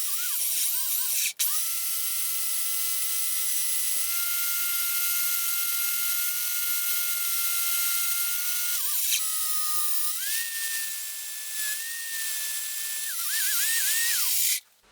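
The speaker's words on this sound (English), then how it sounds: "I'm now going to switch the hammer action off." An SDS drill runs with the hammer action switched off, a loud, sustained high-pitched whine that briefly stops near the start, dips and restarts partway through, and cuts out at the end.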